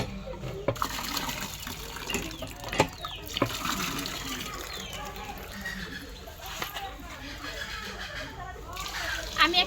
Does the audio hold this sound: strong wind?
no